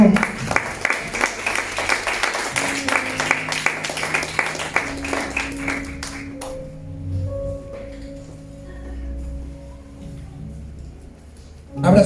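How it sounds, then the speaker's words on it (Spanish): A church congregation claps in a burst that is loud at first and then thins out, giving way to low voices and a sustained musical tone as the applause fades. "Den un fuerte aplauso a su Dios, hermano."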